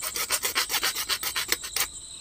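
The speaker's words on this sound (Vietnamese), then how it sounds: "Mình dùng cái cưa này mình cưa này." A hand saw rasps through a small piece for a homemade continuity tester, about a dozen quick rhythmic back-and-forth strokes, close and clear, stopping just before the end.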